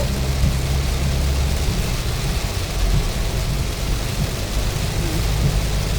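Heavy, constant rain roars evenly with a deep low rumble beneath, loud and unbroken throughout.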